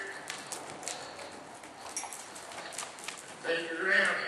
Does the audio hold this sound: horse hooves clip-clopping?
yes